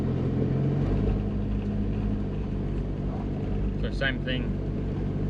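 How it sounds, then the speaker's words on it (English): A 4x4 off-road vehicle with only its rear locker engaged spins its wheels against a rock obstacle, its engine giving a steady low rumble throughout while someone talks briefly over it. "Just doing burnouts because you push against the rock."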